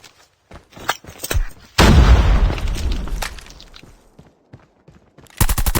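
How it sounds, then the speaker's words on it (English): Video game battle with a grenade explosion and gunfire: scattered sharp shots, then a sudden heavy boom that rumbles and fades over a second or so, followed by more shots and a closing burst of rapid automatic fire. "Grenade, run!"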